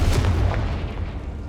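Confringo fire spell blast from Hogwarts Legacy: one loud, close explosive boom with deep low-end weight and a short crackling decay.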